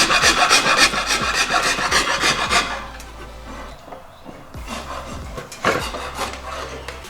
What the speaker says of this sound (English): we'll move to the rasp